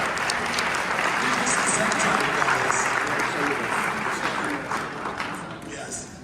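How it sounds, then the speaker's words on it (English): A live event crowd breaks into sustained applause, a thick steady roar of clapping that tapers slightly near the end while someone speaks briefly over it. "Give these guys a big round of applause."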